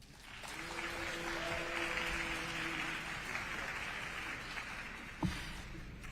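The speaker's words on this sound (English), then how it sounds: "I would like to remind the audience that clapping is a disruption of a congressional proceeding" Audience applause fills a congressional field hearing in California, a dense, steady wash of clapping from a crowd that carries on for several seconds with a single sharper clap near the end.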